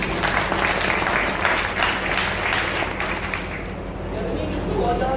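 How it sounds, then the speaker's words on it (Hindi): Loud, sustained applause from a seated crowd at a company gathering in Etawah, a thick continuous wash of clapping that holds steady throughout, with some murmur under it. "मैं चाहता हूँ हमारे जितने भी पुराने एसोसिएट हैं इनके लिए एक बार जोरदार ताली होगी।"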